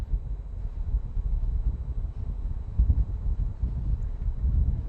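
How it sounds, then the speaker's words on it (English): Wind blusters outdoors on an evening in Xi'an, a steady low rumbling roar buffeting the microphone with gusty swells and no voices. "Tianwei, from a windy evening in Xi'an."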